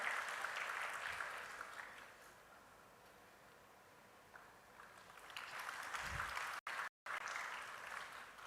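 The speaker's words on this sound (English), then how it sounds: "A round of applause, please," Audience applause at a patent and intellectual property workshop, a steady wash of clapping that dips and swells again, heard from a distance in a large room, briefly cut out near the end.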